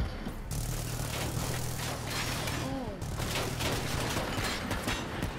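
Gunfire in the Black Ops 3 video game, dense rapid bursts of shots and clattering weapon effects over loud, busy game noise, with a few short electronic tones mixed in.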